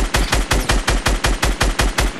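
Rapid bursts of automatic gunfire from a Fortnite match, about a dozen evenly spaced loud shots in quick succession with no talking.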